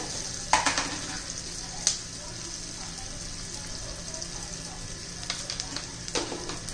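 Tempering for dahi tadka sizzling in a pan, a soft continuous crackle with a few sharp spoon clinks and stirring scrapes, fairly faint and close.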